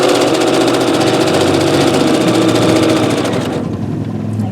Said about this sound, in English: Nice motorcycle going by outside.